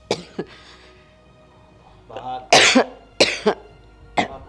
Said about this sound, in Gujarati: એ 2 દીથી છે જ મને ઉધરસ